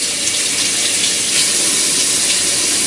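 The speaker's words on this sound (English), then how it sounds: "after I wash my hands" Tap water runs in a steady, loud, full gush while hands are washed at a kitchen sink, with no voices over it.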